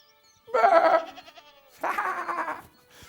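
Two drawn-out bleats sound close and fairly loud, about a second apart. They come from sheep eating grass in a field, though the voice could be a person imitating the animal.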